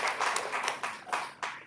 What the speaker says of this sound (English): And can we give a clap to these students?